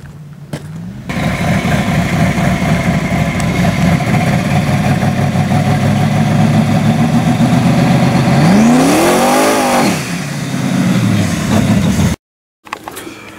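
Twin turbo Chevrolet S10 with a rejetted carburetor, loud close engine idling with a rough lope, then a rev that rises and falls before a brief cutoff and restart.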